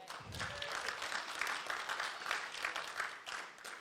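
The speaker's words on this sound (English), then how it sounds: "Thank you for the claps." Steady applause from an audience, many hands clapping in a dense, even wash that fades slightly toward the end.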